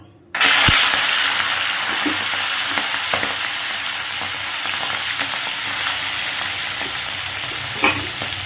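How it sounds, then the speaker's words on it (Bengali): Prawns frying in hot oil in a kadai give a loud, steady crackling sizzle that starts abruptly and holds throughout, with occasional spatula scrapes and pops. "প্রথমে ভেজে নিচ্ছি কি চিংড়ি মাছটা"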